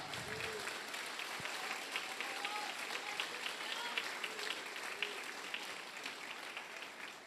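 Applause from a church congregation during a sermon, a steady wash of clapping that carries on for several seconds at moderate distance with no pauses.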